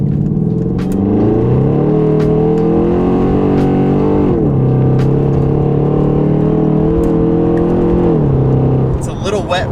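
A Mercedes E550 revs hard through its gears with traction control off on a wet road, the engine note climbing in strong rising sweeps, dropping at each shift, then surging again close and loud.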